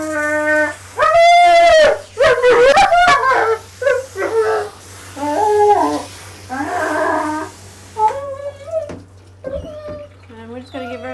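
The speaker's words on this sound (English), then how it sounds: "Even if I'm told the dog is okay with water, I'll still get this a lot" A dog being shampooed and rinsed in a bath whimpers and howls in long, wavering cries, some loud and drawn out and others shorter and breaking off, over a steady low hum.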